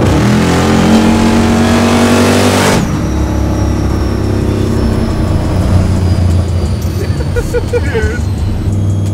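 A supercharged 1200 hp Volvo engine roars as it accelerates hard, pitch climbing, then cuts to a rough, loud rumble; voices talk over the engine.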